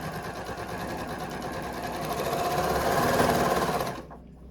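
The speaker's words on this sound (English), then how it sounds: "Denim is always interesting to sew with." A sewing machine stitches through denim, a steady rapid mechanical hum and knocking whir, rising slightly in loudness before cutting off abruptly near the end.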